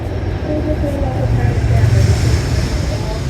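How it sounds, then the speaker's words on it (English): An inbound Hudson line commuter train rumbles past at a station, expressing through 125th Street, with a steady low, rolling roar that swells slightly midway; a voice talks over it throughout. "here we have an inbound train"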